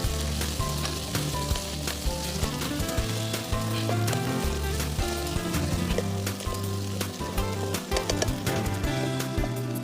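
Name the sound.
spices and crushed red chili sizzling as they cook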